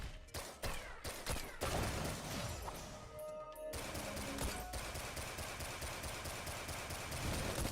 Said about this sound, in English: I can just straight shoot everybody.